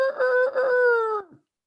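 A person imitates a rooster's crow with their voice, giving one drawn-out, rising and falling call of a little over a second that ends abruptly.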